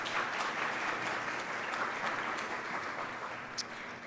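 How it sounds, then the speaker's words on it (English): An audience claps steadily, a dense and even patter of many hands that holds throughout, moderately loud, with no one speaking over it. "Big round of applause."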